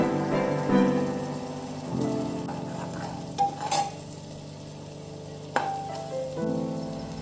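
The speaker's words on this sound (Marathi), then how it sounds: "नंतर त्यात टमाटा, शेंगदाण्याचे कूट आणि खोबरं किस घालून व्यवस्थित परतून घ्यावे।" Onion, tomato, crushed peanuts and grated coconut sauté together in a pan, sizzling steadily up close while a spatula scrapes and taps the pan a few times.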